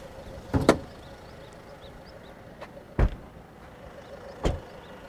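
A 2.2 liter diesel engine idles with a steady low rumble and hum, broken by three loud thumps at uneven intervals.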